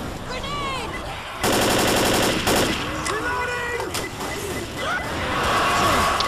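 Rapid automatic assault rifle fire in the Left 4 Dead zombie shooter, a dense burst of repeated shots lasting about a second, with scattered game effects and faint voices around it.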